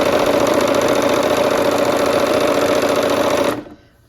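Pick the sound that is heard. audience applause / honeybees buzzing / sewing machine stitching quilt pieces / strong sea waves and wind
sewing machine stitching quilt pieces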